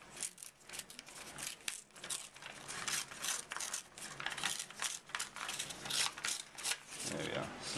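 Paper being torn by hand into a hill shape for a landscape artwork, heard as a run of close, dry ripping and crinkling bursts with a soft voice talking underneath.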